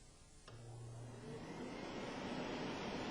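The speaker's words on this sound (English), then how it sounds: "let's narrow down the mouth of the tube to speed up the airflow" Air forced through a tube narrowed at the mouth, atomizing liquid into a mist the way a carburetor does, heard as a steady, loud, broad hiss that swells slightly and holds throughout, with a brief low tone near the start.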